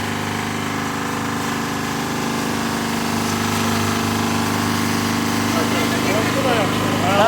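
An MTZ tractor's diesel engine runs steadily close by with a constant droning hum and harmonic whine, growing slightly louder toward the end.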